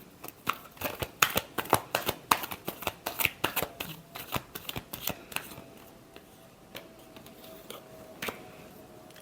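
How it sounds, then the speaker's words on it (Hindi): Tarot cards being shuffled by hand in a rapid run of crisp, papery riffling clicks that thin out into a few scattered taps, close and fairly quiet, with no voices. "last shuffle"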